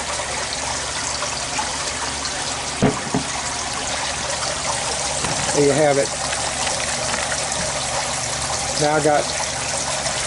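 Steady rush of water flowing from a pipe mixed with air on a homestead, a continuous close gushing and trickling that runs throughout while someone talks briefly over it.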